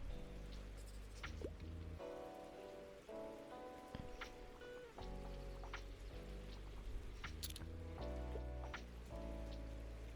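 Steady rain falls in the cozy bookshop game Tiny Bookshop, a constant patter and drip spread across the whole stretch, heard alone over soft layered background music with no one talking.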